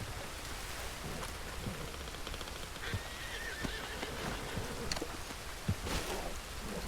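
A horse in Red Dead Redemption 2 whinnies in the middle distance amid steady rain, with scattered hoof clip-clops and thuds around it.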